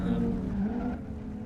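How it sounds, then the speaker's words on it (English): A race car in Live for Speed scrapes along a wall, its engine droning with a grinding, scraping rasp, loud and close, easing off toward the end. "As we've got a car scraping its way through"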